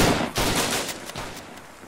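Gunfire in a WW1 trench warfare video game: a quick series of sharp reports, some close and some more distant, runs over a constant rumble of background noise.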